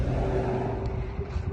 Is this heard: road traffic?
yes